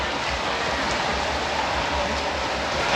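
Steady, dense rain pours down in a constant hiss, close and fairly loud, with no pauses or other sounds.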